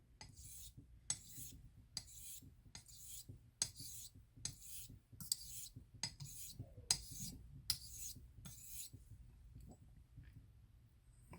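Dovo Bergischer Löwe 3680 straight razor stroked across a honing stone, a steady series of about a dozen close, crisp scraping passes in an even back-and-forth rhythm, with no talking.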